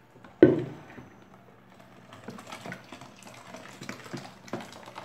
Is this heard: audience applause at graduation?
no